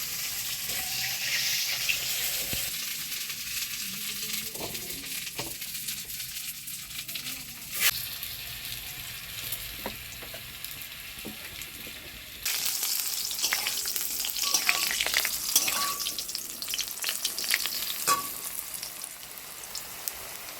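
Pieces of chital fish fry in hot oil to a golden colour, giving a continuous close sizzle and crackle with occasional clinks and stirring, and a louder burst of bubbling in the second half.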